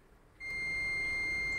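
A multimeter set to buzzer continuity mode gives a steady, loud electronic tone as its probes test a fuse on a Lenovo IdeaPad 300 laptop board, starting abruptly and then holding continuously after a short quiet moment.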